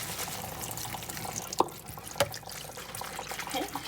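Filtered tap water runs steadily over gluten-free pasta in a kitchen sink for a quick rinse, with a couple of sharp clinks of cookware. Speech is faint.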